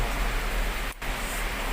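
Heavy rain pours down steadily in a continuous, dense hiss, loud and close, with one very brief dip near the middle before the downpour resumes at full strength.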